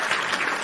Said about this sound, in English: Round of applause for John JID.